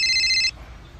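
A phone ringtone chimes loudly in a comical village repair-shop scene with a mechanic, a steady electronic ring lasting about half a second before cutting off abruptly, leaving quiet room noise.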